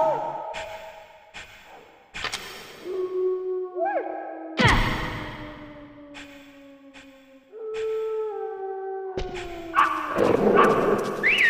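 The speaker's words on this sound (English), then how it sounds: "I thought you were good with dogs." A dog in Metal Gear Solid gives sharp, loud barks spaced a few seconds apart, mixed with whining, drawn-out cries that slide downward in pitch between them.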